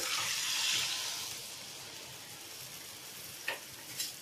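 Water poured into a hot pan of roasting mango chutney hisses into a broad, loud sizzle that slowly eases to a steady bubbling fry, with a couple of soft stirring knocks near the end.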